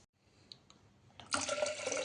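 Water pours from a small glass into a pressure cooker holding dal with asafoetida, turmeric and oil, a quiet drip first, then a steady close splashing stream.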